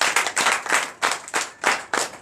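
A church congregation at a night prayer service claps in acclamation, with rapid, loud clustered bursts coming in a rough rhythm of about two per second over a brief stretch.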